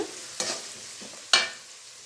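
Onions frying in oil for a tomato gojju, stirred with two sharp scraping strokes over a soft, steady sizzle, close and without talk.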